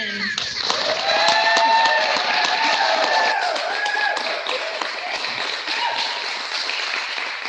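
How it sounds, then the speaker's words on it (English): School assembly audience clapping for kindergarten star students, a lively round of applause with children's voices and crowd noise mixed in, swelling early and then tapering. "Let's give a round of applause for our star students in kindergarten."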